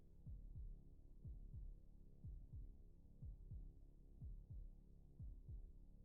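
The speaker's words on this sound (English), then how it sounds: "I like the heartbeats." A steady heartbeat effect from Killer Instinct thumps in regular double beats, about one pair per second, low and muffled over a soft hum.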